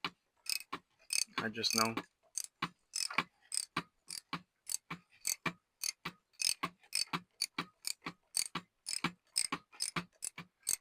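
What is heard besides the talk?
tightening engine oil drain plug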